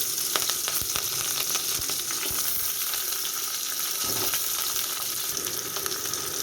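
Mustard seeds, onion and curry leaves frying in hot oil for a horse gram bassaru, a steady close sizzle with crackling pops and occasional stirring scrapes throughout, with no talking.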